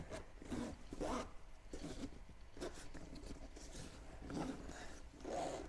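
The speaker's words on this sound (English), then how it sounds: "you got to open these zippers up right here" Zippers being pulled open on a KEMIMOTO UTV storage bag for a 2023 Polaris Ranger 1000XP, several close, raspy bursts of zipping in uneven succession with handling rustle between.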